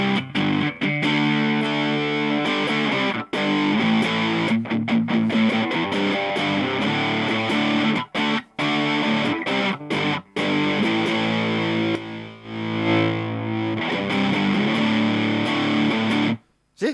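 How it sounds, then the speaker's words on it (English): Electric guitar played through a Turbo Rat distortion pedal with the pedal volume turned down, giving a continuous, dense, fuzzy distorted tone with a few brief gaps between phrases. "if you turn the volume right down, it's a different type of distortion"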